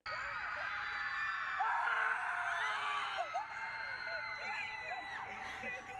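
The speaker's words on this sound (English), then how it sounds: "Everyone's just screaming outside, so you might as well join in." Students outside scream and whoop together to relieve stress, a steady chorus of distant overlapping yells and shrieks from many voices, sustained throughout.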